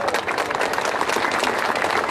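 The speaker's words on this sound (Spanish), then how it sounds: "Un aplauso." Audience applause at a Mexican electrical workers' union anniversary rally, dense and steady clapping from a large crowd filling the whole stretch at an even, sustained level.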